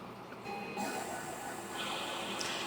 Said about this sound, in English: I'm going to turn on my machine, which should automatically activate the recirculation pump